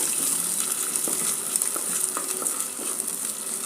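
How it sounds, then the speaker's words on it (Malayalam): Squid curry with crushed ginger sizzling steadily in a pan, a close, even frying hiss broken by soft stirring scrapes and taps, with no voices. "എന്നിട്ട് നന്നായി ഇളക്കി കൊടുക്കുക."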